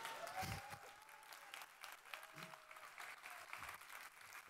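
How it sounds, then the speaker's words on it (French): An audience claps steadily throughout, a dense patter of hands with a few louder thumps, moderately loud and continuous. "le public est en folie Et ils applaudissent"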